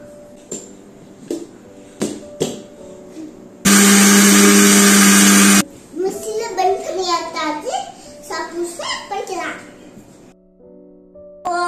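A mixer jar blends a kulfi ice cream mixture in a short, loud, steady whir of about two seconds, with someone talking before and after the burst.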